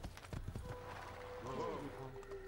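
Horse hooves clip-clop in a video game with a brief neigh, heard quietly under a person talking.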